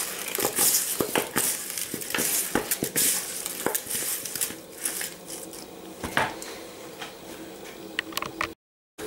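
Chicken seasoned with salt and pepper being stirred and mixed, with repeated close scraping and crunching strokes in an uneven rhythm, plus a faint sizzle beneath, ending in a sudden cut to silence.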